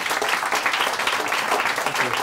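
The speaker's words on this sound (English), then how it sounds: "So let's have a big round of applause for Dr." Audience applause for a guest speaker at an evening talk, a continuous, even clatter of many hands clapping at moderate loudness, with no voices over it.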